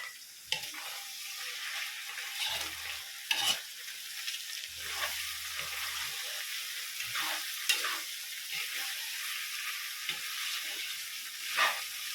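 Menudo being stirred in a pan just after tomato sauce goes in, a steady soft sizzle with scraping spoon strokes and a few sharper clinks against the pan, no talking.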